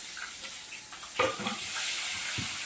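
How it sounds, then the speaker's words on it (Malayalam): Onion frying with peanuts in a pan gives a soft, steady sizzle, with a few light stirring scrapes and clicks against the pan partway through. "ഞാൻ സവാള ഒന്ന് ഫ്രൈ ആവാം"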